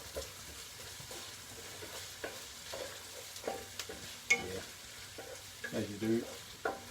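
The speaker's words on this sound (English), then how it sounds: "So I put my probably a real liberal amount of olive oil in here. I'll brown off" Onions browning in a generous amount of olive oil in a pan, a steady close sizzle broken by clattering stirring strokes, with a brief spoken remark near the end.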